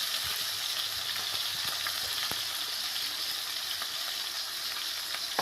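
Tomato, green chilli and onions fry in a pan with a steady close sizzle, punctuated by light scraping clicks as the mixture is stirred back and forth.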